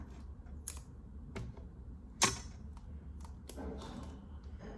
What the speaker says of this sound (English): Now I'll take my scissors and cut.